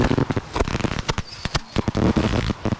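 Fireworks burst in rapid succession at a big daytime firework show, a dense run of sharp cracks and booms close by, with crackling tails between the louder reports.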